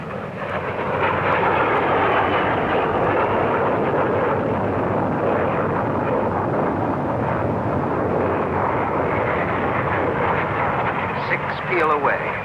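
Twenty-two Hawker Hunter jets of 111 Squadron fly a formation loop at a 1950s Farnborough air show. Their engines make a continuous, loud roaring rush that stays steady throughout, with a brief tonal warble near the end.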